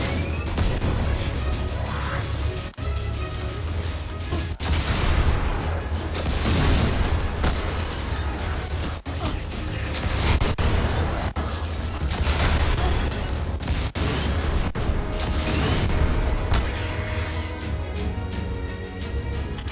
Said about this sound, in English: Scorch cannons can be pretty fun. Especially since you can charge them up.